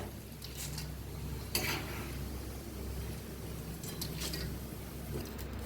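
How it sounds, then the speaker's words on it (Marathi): Dry coconut roasting in a pan for chivda, a faint steady sizzle with occasional scraping stirs of a spatula, close by and with no talk over it. "आता दाळगा काढून घेतलाय खोबरं भाजून घेऊया"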